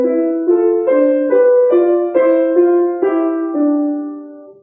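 Legato piano melody from Robert Schumann, the first two bars played as smoothly connected notes, about ten sustained tones in a steady flowing rhythm, clear and close with no talking.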